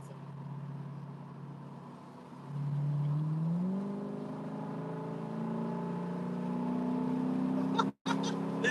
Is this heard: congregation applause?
no